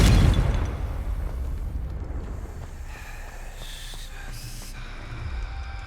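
A Confringo fire spell explodes in Hogwarts Legacy, a loud boom at the start that trails off into a rumbling decay, followed by faint magical chimes and tones.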